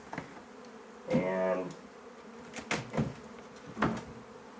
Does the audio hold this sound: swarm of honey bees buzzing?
yes